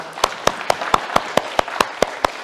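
Congregation in a Korean church in Berlin clapping at the end of a Sunday service, sharp rhythmic claps in an even, steady beat over a background of scattered clapping and room noise.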